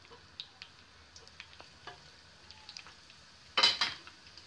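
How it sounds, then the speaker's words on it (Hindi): Finely chopped garlic frying in hot oil, a soft low sizzle with occasional light clicks and a louder scraping stir of a utensil against the pan near the end, close and quiet. "लहसुन को बारीक काट के तेल में शामिल करेंगे।"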